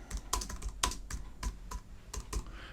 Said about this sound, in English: If I type list of stuff and more